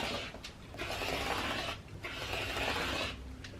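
Steady scraping and rasping as a rotary or blade cutter slices background fabric into 1.5-inch quilting strips, fairly close and continuous with two brief pauses, no talking.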